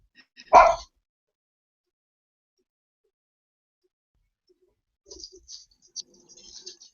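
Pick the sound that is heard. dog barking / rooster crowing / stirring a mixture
dog barking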